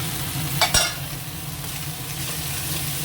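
Ginger and garlic paste sizzles in hot oil in a pan for a chicken curry, a steady frying hiss with a couple of sharp stirring scrapes near the start and no voices.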